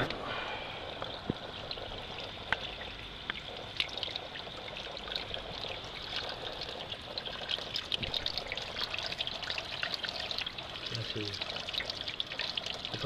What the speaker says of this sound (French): Quand on appuie, avec une forte quantité d'eau, ça fait.